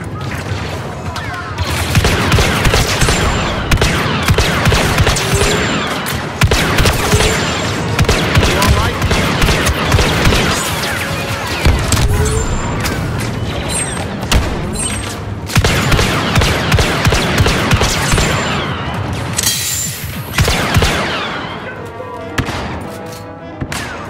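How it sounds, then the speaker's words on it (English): Rapid blaster fire in a Star Wars Battlefront II battle, dense overlapping volleys of sharp shots crackling continuously at close range with booms and crashes mixed in, broken by brief lulls. "Ancient weapons are no match for a good blaster."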